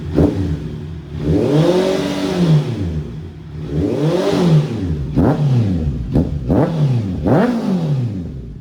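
A Honda CB650 motorcycle engine with a new exhaust and ECU reflash revs up and down repeatedly, several long throaty swells followed by quicker sharp blips, loud and close with no talking.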